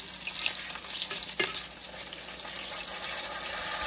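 A pork chop sizzles and fries in a hot pan as it is flipped over, a steady close crackle with one brief clatter partway through.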